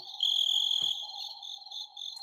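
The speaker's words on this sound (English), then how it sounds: "Where's your crickets? You've got crickets." Crickets chirp in a steady, high, continuous trill that stays close and clear, with no voices over it.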